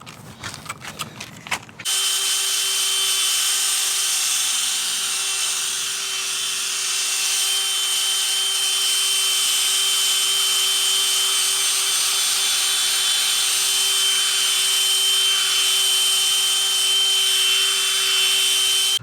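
A power buffer works the paintwork of a Classic Mini after 2000 grit sanding, a steady high-pitched whine that starts abruptly after a few rough clattering seconds and runs unbroken, loud and close.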